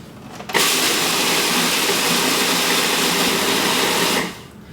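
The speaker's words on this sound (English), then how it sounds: "So first we're gonna do our oats, and we really want these to be nice and finely ground." A food processor grinds oats to a fine meal for pumpkin spice energy bars. The loud, steady whir starts abruptly, holds for about four seconds and then cuts off, with no voices.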